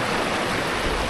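Madakaripura waterfall in East Java sends up a dense, steady roar of rushing, splashing water that fills the whole moment, broad and constant with no pauses.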